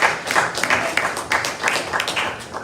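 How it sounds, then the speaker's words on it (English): A crowd claps at a political forum with Congresswoman Carolyn Maloney and Congressman Jerry Nadler, a short burst of moderately loud applause filling the room, with a voice faintly audible underneath. "please clap."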